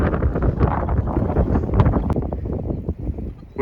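Gusty wind buffets a microphone outdoors at an old farmhouse, a loud continuous rumble filling the clip with no pauses.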